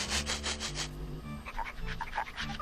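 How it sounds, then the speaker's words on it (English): A dog in the King's Quest VII adventure game eating ambrosia, with soft rhythmic panting and snuffling close up, followed by light chewing and lapping sounds over faint background music. "you give the dog the ambrosia"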